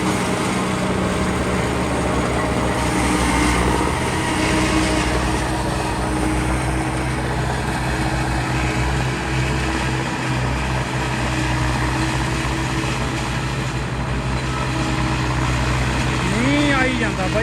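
A 4x4 tractor engine runs in a loud, continuous drone with a steady low rumble throughout, close by and unbroken.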